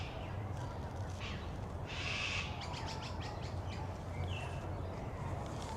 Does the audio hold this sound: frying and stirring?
no